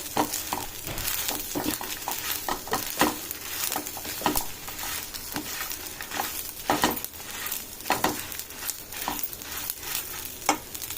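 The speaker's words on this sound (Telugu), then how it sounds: "ఇలా వేయించుకోవాలండి." Sesame seeds, coriander seeds, peanuts, cumin and garlic are fried in a pan for mint chutney. A steady close sizzle runs throughout, broken by frequent scraping stirs and light patter, with no talking.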